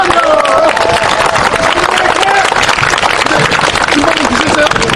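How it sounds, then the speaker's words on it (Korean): Loud, dense applause from a large crowd at an outdoor political protest rally, steady and unbroken throughout. "다시 한번 박수로, 큰 박수로"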